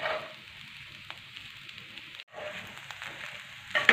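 Sweet sabudana khichdi sizzles gently in a pan as it is stirred and sautéed, a faint steady frying hiss with a brief pause midway and a small clatter at the close.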